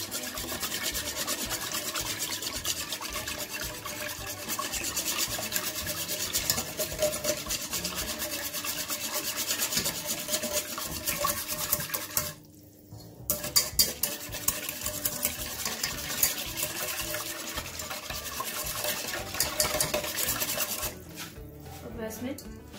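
A spoon stirs egg into donut dough in a bowl, giving a continuous scraping, rubbing sound with an uneven rhythm and a short pause about halfway through.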